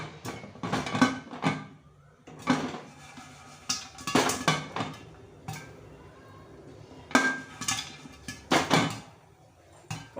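Popcorn popping inside a pressure cooker with the ring and whistle removed, loud irregular clusters of pops and metallic knocks from kernels hitting the pot, with quiet gaps between bursts.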